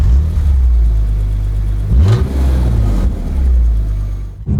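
A 2001 BMW E46 M3 with a manual gearbox driving on a motorway, its engine droning loud and steady with a brief rise in revs, then settling back into a constant cruise.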